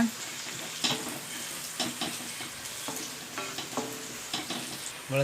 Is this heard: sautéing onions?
yes